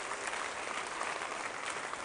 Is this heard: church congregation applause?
yes